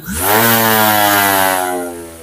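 A cordless electric grass trimmer with its blade set fitted spins up on a battery test, a loud, close motor whine that climbs quickly, holds steady for about two seconds, then begins to wind down.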